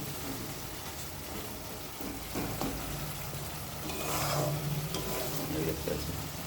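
Spices and tomato gravy fry in mustard oil for a Bengali pabda fish curry with curry leaves, giving a steady close sizzle with occasional stirring scrapes throughout.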